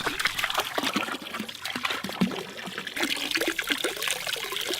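Cold water trickling and splashing from a tap at an off-grid container home, a steady close-up flow with faint background activity throughout.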